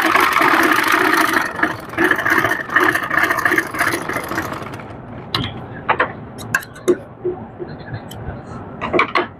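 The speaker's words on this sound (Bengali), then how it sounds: "এক সাইডে চিকন করে ভাঁজ করে নিয়ে এরকম পুরো একটা সেলাই দিয়ে নিব।" Sewing machine running in a steady mechanical whir while stitching a narrow folded edge along a sleeve cuff, continuous for about five seconds, then giving way to scattered short clicks and handling noises.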